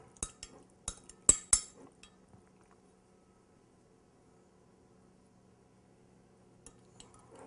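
Crumbled tofu tossed with salt, black pepper and cayenne, the utensil striking the pan in a quick burst of sharp, close clinks, then near silence before a few softer taps near the end.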